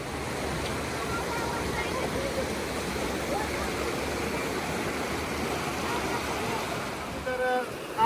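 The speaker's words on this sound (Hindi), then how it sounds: "पानी का शोर भी हो रहा है" Rushing mountain water near Marrakesh, Morocco, roars as a loud, steady wash of noise throughout, with no talking over it.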